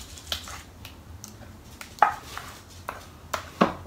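A spoon spreads plant-based lasagne mixture in a baking dish, giving soft irregular scrapes and a few light clicks of metal against the dish, close by and quiet, with no talking.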